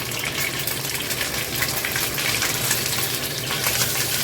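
Garlic pork ribs frying in hot oil under a covered lid, a steady, dense crackling hiss that holds evenly throughout at close range with no voices.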